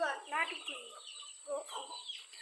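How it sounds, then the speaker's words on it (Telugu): Close chickens cluck and chatter in short, uneven bursts, with a few higher calls mixed in against a quiet background. "ఇగో చూసారా ఇయ్య కోళ్ళు."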